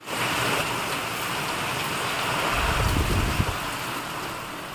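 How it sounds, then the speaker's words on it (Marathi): Heavy rain in Akola, India pours down in a dense, steady roar, with a low rumbling swell midway and no voices. "तुम्हाला दाखवतो पाऊस किती पडतोय"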